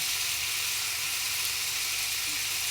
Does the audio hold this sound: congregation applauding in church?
no